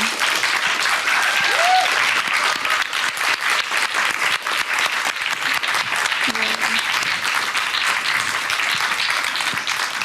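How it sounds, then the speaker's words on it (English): Sustained audience applause fills a festival hall, a dense, steady wash of many hands clapping at full loudness for about ten seconds without a break. "One more round of applause, please."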